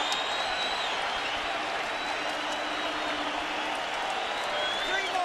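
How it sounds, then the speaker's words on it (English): A boxing crowd applauds and cheers both fighters late in the bout, a continuous wash of distant clapping and crowd noise beneath a commentator's speech. "standing and applauding both fighters"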